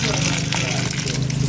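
Water pouring and splashing over crabs being washed before boiling, Jamaican style, a loud close gushing stream running continuously with someone talking over it.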